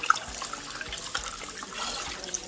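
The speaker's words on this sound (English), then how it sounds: "I'm going to rinse this out, wash it." Running water splashes as snails are rinsed before cooking, a faint, steady trickle and patter close by with occasional small drips.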